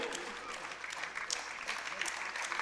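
A crowd applauds at an Independence Day evening tribute to martyrs as a soldier's mother comes to the stage, continuous moderately loud clapping with crowd noise mixed in.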